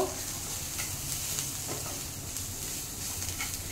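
Onions frying in a pan while being stirred, giving a continuous close sizzle with soft scraping strokes throughout and no talking.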